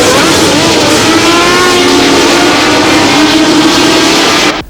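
Formula 1 race cars, including Ferraris, at the 1976 Japan Grand Prix roar past at close range in one loud, continuous engine blare with a rising whine that holds steady before cutting off abruptly at the end.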